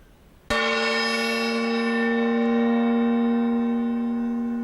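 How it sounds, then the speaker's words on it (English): A stick strikes a metal plate once, a sharp metallic strike ringing out into a long, clear, bell-like tone that sustains and slowly fades, with no talking. "if I strike this metal plate with this stick, what you are going to observe?"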